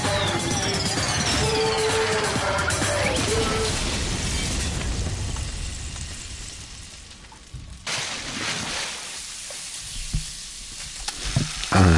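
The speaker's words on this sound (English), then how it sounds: "Ah, the nice sizzle." Food frying in the Danganronpa 2 video game, a loud, steady crackling sizzle running throughout, dense and hissy, with a sharp shift in texture near the middle and a few pops toward the end.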